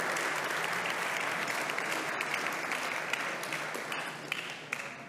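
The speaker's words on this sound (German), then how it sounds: "Vorab Beifall. Ne?" Steady audience applause fills a conference hall, dense and sustained for several seconds before it thins slightly toward the end.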